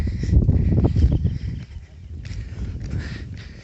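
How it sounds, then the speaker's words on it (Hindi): Buffalo walking along a high, flat mountain ridge in forest country, heard as a few soft, uneven hoof thuds and shuffles close by, strongest early on, then fading into quiet outdoor air. "आप देख सकते हैं पहाड़ के ऊपर यहाँ भैंस चल रही है।"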